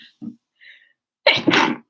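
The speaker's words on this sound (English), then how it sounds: "Oh my God, I'm sneezing." A single loud sneeze close to the microphone, preceded by a quick sharp intake of breath.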